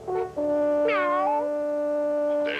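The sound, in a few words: cat meowing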